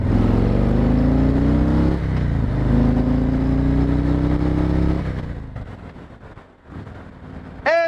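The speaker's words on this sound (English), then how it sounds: "now we get to do our 0-60. It's gonna be a slow one because of the CRV" Steady engine drone rising in pitch as a vehicle accelerates hard on a road, loud and close with wind rush, then easing off and dropping away near the end.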